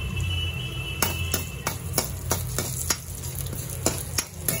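Cinnamon, cloves, cardamom and poppy seeds fry together in a pan with a soft, even sizzle, while about a dozen sharp spoon scrapes and clacks land at uneven intervals over a low steady hum.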